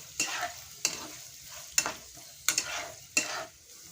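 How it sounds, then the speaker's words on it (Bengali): Beetroot for pickle stirred in a pan, five sharp scraping strokes of a utensil at a steady interval over a faint sizzle, close and without talk. "ভালো করে নেড়ে চেড়ে নিই"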